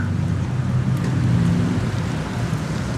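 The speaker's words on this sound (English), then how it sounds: "I hate getting caught off guard by the rain." Rain hisses steadily while an ebike rides through city traffic, with dense broadband wash and a low road and engine rumble continuing without pause and no voices.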